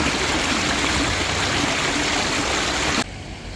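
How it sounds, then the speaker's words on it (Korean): Steady rushing water from the Cheonggyecheon stream in central Seoul, close and continuous, dropping to a quieter wash near the end. "시원한 물소리에 기분도 좋아지는 휴일 아침입니다."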